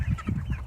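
Ducks and other birds emerging from their enclosure give a quick series of low clucking calls, close and loud, in rapid rhythm over a brief moment.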